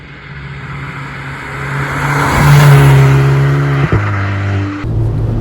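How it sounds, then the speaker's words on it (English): A modified VW Polo GTI drops into third gear and pulls hard, its engine note rising steadily with induction roar, then a sharp turbo chatter as the revs step down. "We've got induction, noise, we've got turbo chatter as well"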